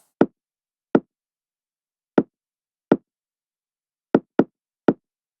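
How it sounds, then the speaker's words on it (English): Seven sharp, punchy knocks layered on a kick drum with a deep thump, spaced irregularly and heard alone, the last few coming in a quick cluster. "The layer of the sound as a kick, more kind of a knock."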